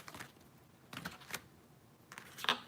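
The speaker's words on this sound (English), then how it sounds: "These are hard to shuffle today" Oracle cards being shuffled by hand, giving a few quiet, brief papery riffles and flicks spaced out over a couple of seconds, close up and without talk.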